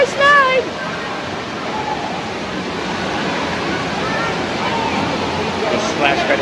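Water splashes and pours steadily at the Splash Lagoon water park splash pad in Erie, a continuous rushing wash with a brief squeal near the start and faint crowd noise.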